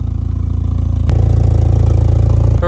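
A modified Volkswagen Jetta engine runs steadily, close and loud, with a low idle drone that steps up slightly in pitch partway through and carries on evenly.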